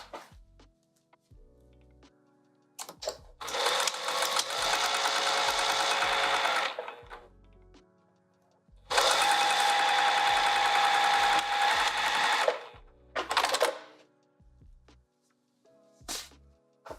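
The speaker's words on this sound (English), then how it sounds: "All right, let's sew this." A sewing machine stitches a vinyl sling bag in two long, steady runs of several seconds each, loud and close, with short bursts of stitching and quiet handling between them.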